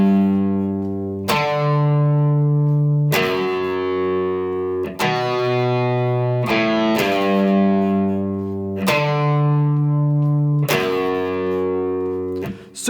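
Electric guitar in standard tuning plays a song intro, sustained distorted chords changing every couple of seconds with reverb, loud and alone.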